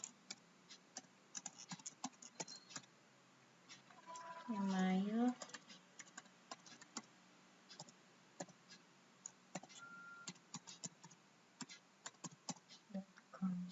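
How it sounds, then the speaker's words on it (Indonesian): Name being typed on a computer keyboard during an online certificate form entry, heard as scattered quick key clicks throughout, with a brief voice or tone passage in the middle. "saya ketikkan nama saya"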